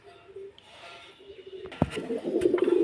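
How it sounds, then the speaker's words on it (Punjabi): Soft, low pigeon coos murmur close by from a coop full of pigeons, with rustling and handling noises growing louder toward the end. "ਲਓ ਬਾਈ ਜੀ ਇਹਦੇ ਚ ਸਾਰੇ ਕਬੂਤਰ ਆ"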